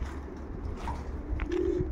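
Pigeons at a loft coo softly, low rounded calls rising and falling over a steady outdoor background, fairly close and moderately quiet, with no one speaking.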